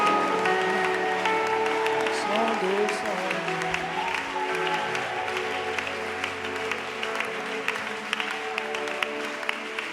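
A large crowd claps steadily and densely through the clip at a religious gathering led by a prophet, the applause sustained and loud with faint voices mixed in beneath it.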